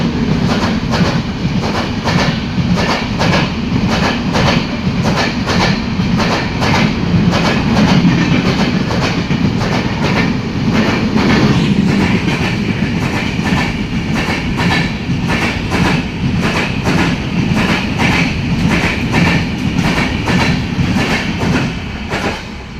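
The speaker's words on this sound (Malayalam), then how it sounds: "ഹിമസാഗർ എക്സ്പ്രസ്." The Himsagar Express passing Irinjalakuda railway station, a loud sustained rumble with rapid rhythmic clickety-clack of wheels over rail joints as carriages roll by close at hand.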